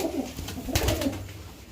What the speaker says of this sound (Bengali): এই পায়রাটার পাঞ্জা ছেড়ে দাও।